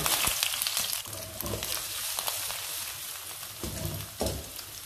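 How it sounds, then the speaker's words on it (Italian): Onion frying in oil in an already hot pan, giving a steady loud close sizzle with crackling bursts and occasional stirring scrapes, with no voice. "Mettiamo in padella olio, la padella è già calda"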